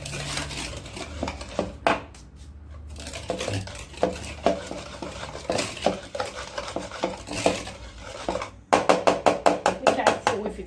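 Eggs being beaten in a bowl for a sweet dough, a utensil clattering and knocking against the bowl in quick repeated strokes that speed into a rapid run near the end, with a voice talking over much of it.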